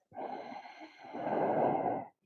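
A single long, breathy ujjayi inhale through the nose with a hissing, slightly constricted throat quality, close and fairly soft, lasting about two seconds.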